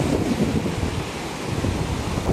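Beach at Vizag around sunrise, with a continuous loud roar of surf and strong wind buffeting the microphone, dense and unbroken, no speech.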